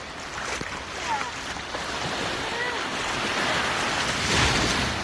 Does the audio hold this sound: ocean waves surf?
yes